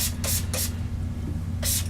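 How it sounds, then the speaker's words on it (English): Hair spray from a spray bottle hisses out in three quick bursts, two close together and one after a pause, close and fairly loud over a low background hum. "So I just spray this."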